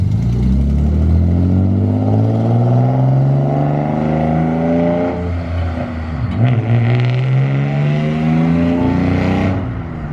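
A BMW E36 with an exhaust leak revs hard and loud, its engine note climbing steadily through the gears, dipping briefly near the middle, then pulling up again before easing off at the end.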